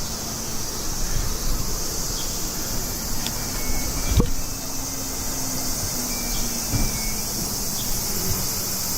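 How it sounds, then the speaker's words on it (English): A constant high-pitched buzzing drone of cicadas in Ebisu, Tokyo, Japan fills the air steadily throughout, with faint outdoor noises and a brief knock partway through. "Probably you're still hearing in the background the cicadas"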